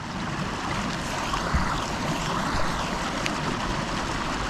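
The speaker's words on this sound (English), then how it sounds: "you wait for the water to drain down to this line here" Water drains steadily through a Millbank bag hung in a tree, a continuous broadband trickling hiss with no pauses, fairly loud and close, with a couple of faint knocks.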